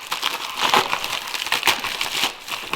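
Crinkling and crushing of plastic packaging as a car parts package containing Heim-joint toe arms is cut open and unwrapped, a close, busy rustle with a few sharper crackles and no talking.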